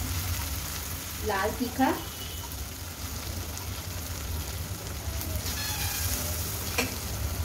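Tomato masala fries in a pan for a home-cooked vegetarian thali, giving a steady, close sizzle throughout, with a short stretch of talking near the start.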